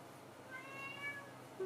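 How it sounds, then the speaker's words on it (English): A cat meows softly a couple of times in a quiet room, drawn-out and plaintive, fairly close. "If you can hear the cat, it's my cat, it's not yours."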